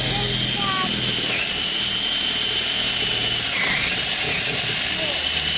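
A power drill runs continuously while walls are being framed, a loud close whine that dips in pitch twice as it loads up, with voices talking underneath.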